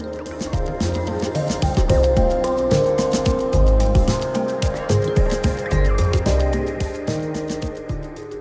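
Turkeys or other fowl gobbling loudly and repeatedly at close range, with quick overlapping calls and clucks that continue throughout at a busy, irregular rhythm.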